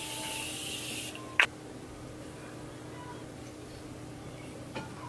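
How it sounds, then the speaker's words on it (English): A can of setting spray sprays in one steady hissing burst lasting about a second, then stops; a sharp click follows in a quiet room. "Take some setting spray."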